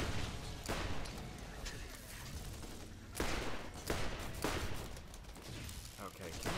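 Gunfire from the Borderlands video game, The Secret Armory of General Knoxx, with a dense run of rapid shots and bursts, sharp louder volleys near the middle and end, over steady game background noise.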